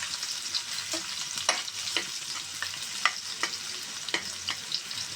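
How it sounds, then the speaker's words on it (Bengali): Chopped onions fry in a hot pan for a stuffed egg dish, a continuous bright sizzle broken by repeated sharp stirring scrapes and clinks of a utensil, close and with no talk. "পেঁয়াজটা আমি সুন্দর করে লাল লাল করে ভেজে নেব"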